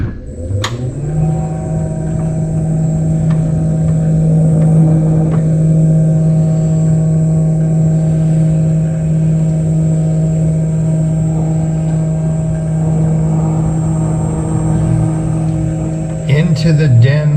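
Residential lift in an 1830 Shenandoah Valley farmhouse descending one floor, a steady loud motor hum with a constant drone running throughout, starting with a faint click and ending with a slight clatter as it lands.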